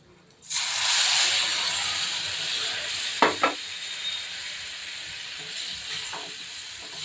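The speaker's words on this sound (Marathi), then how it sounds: "फक्त जिरं, राई आणि लसणाची फोडणी घेतलेली दिलेले आहे" Oil sizzles loudly as cumin, mustard seeds and garlic hit the pan for a mung dal tempering, a sudden hiss that settles into steady frying with a few brief clinks of a spoon.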